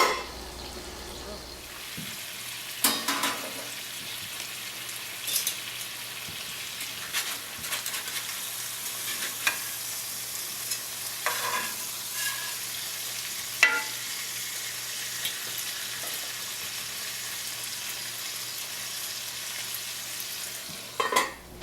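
White fish fillets seasoned with garlic powder fry under a lid in a covered pan, giving a steady soft sizzle with occasional brief clatters and stirring sounds, moderately quiet and without talk.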